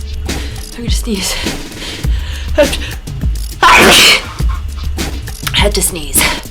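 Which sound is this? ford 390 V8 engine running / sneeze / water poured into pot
sneeze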